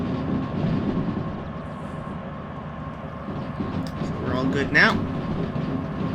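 A DH4 diesel locomotive in Derail Valley hauls an 856-ton train along rails near a steel mill, a steady rumbling roll with a brief rise in squeal and clatter toward the end, someone speaking over it.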